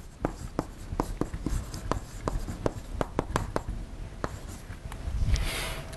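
An equation is written by hand on a board during a microfluidics lecture: a steady series of sharp, close tapping and scratching strokes with brief gaps, heard alone without speech.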